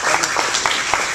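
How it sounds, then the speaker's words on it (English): Loud applause at a first event held by Arab American Democrats of California, with individual claps standing out from a close, busy crowd. "I really think that we should all give ourselves a round of applause for being here"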